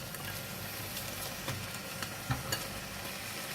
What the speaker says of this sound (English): Put in all the squid to continue to cook for another maybe 5 minutes.